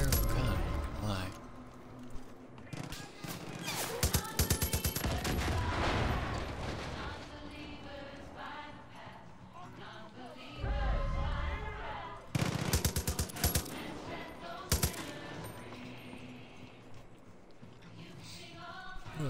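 Bursts of rapid gunfire from a gun in the Far Cry video game, loud clustered volleys with pauses between them, accompanied by game sounds and a voice talking.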